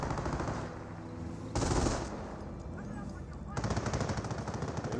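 An MG42 machine gun fires in Company of Heroes, sustained rattling bursts with other battle noise dense beneath them, loud and continuous with a brief lull in the middle.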